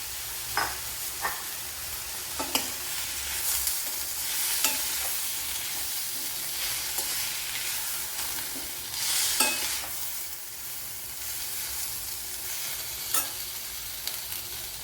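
Onions and tomatoes sautéing in a pan for a Kerala-style egg mappas, a continuous soft sizzle with several sharp stirring scrapes and clinks scattered throughout, no voices.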